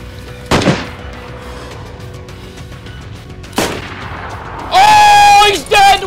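Gunfire in the DayZ video game: a sharp, loud shot rings out early, a second follows about three seconds later, then a burst of bright, ringing tonal sounds near the end.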